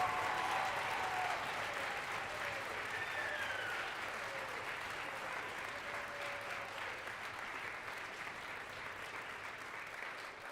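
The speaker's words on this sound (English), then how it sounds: "Let's give the first group that performed today a round of applause" A concert audience applauds a university wind ensemble after its performance, dense sustained clapping at moderate distance that slowly thins and fades over ten seconds.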